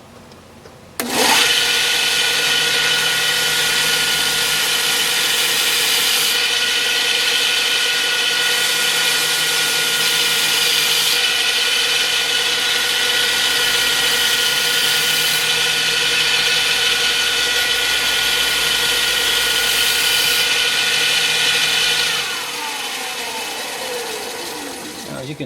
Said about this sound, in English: It's a lot quicker on the sanding belt,